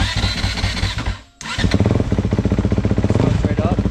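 A dirt bike engine cranking and firing, a brief pause, then catching and settling into a loud, close, rhythmic idle with a voice over it.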